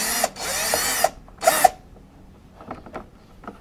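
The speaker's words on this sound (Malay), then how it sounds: "jom dah tebuk lubang halus untuk kita pasang kamera tadi" Short bursts of a small power drill boring a fine screw hole to mount a reverse camera, two close whirring runs with a pause between, then light handling clatter.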